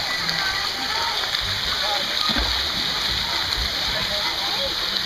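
Water splashes and sloshes steadily as someone practises swimming, with an adult voice speaking encouragingly over the continuous splashing throughout.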